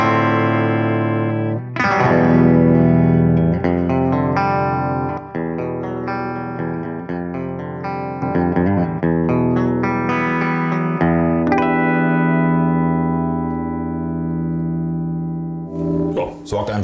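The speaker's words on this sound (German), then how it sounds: "schöner kleiner Kompressor, macht das, was er soll." Electric guitar through a small Tone City compressor pedal plays a loud, sustained passage of chords and single notes with an even, evened-out tone, ringing out near the end before a brief pick scrape.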